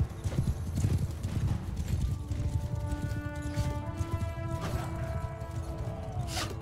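Horse hooves clip-clop steadily in Mount & Blade II: Bannerlord, a brisk repeated rhythm of close hoofbeats over battle noise, with a brief whinny and tonal music or ambience rising midway.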